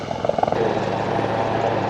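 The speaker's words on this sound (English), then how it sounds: "Wildcat is an agile helicopter that's got through 178 miles an hour, the range is 50 miles. The multi-role helicopter, as shown today." A Wildcat multi-role military helicopter flies at an airshow, its steady rotor and turbine roar filling the air at moderate distance, with a few faint thuds early on.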